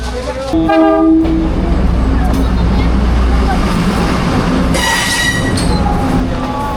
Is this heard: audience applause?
no